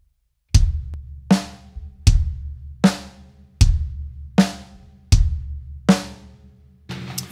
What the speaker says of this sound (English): the number 1 there is 4 quarter notes split between the bass drum and the snare drum